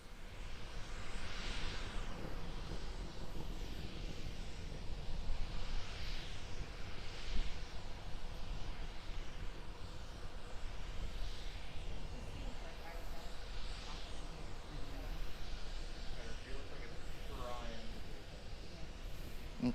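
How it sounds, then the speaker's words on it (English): Steady broadband roar of a SpaceX Starship prototype hovering on a single Raptor engine during a test flight, a continuous distant rumble with commentators talking over it throughout. "We're still being powered by the single Raptor engine."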